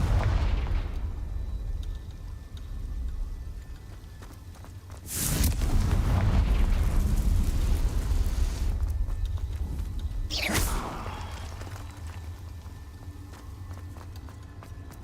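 Confringo fire spell explosions in the Hogwarts Legacy video game: two loud, sharp bursts with rumbling tails, about five seconds apart, over a steady low game backdrop.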